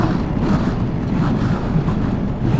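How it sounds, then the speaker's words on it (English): Strong wind roars steadily over the microphone while a scooter rides a rough, pothole-filled desert highway between Lake Havasu and Winslow, Arizona, a dense continuous rush with no talking. "And oh boy, did it just get windy."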